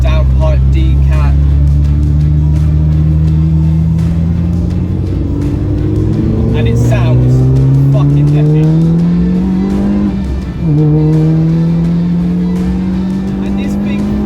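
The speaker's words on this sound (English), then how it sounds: "This car has a full Miltek sports exhaust system with downpipe decat." Mini Cooper R53 track car with a full Milltek sports exhaust and downpipe decat, engine revving loudly and climbing through the gears with rising pitch and a brief lift between pulls, close and continuous, with someone talking over it.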